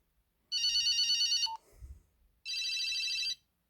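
Second ringtone on a 1994 Nokia 2010 (NHE-3DN) GSM mobile phone: two bursts of a shrill, warbling electronic ring, each roughly a second long, separated by a short pause with a faint click, close and clear.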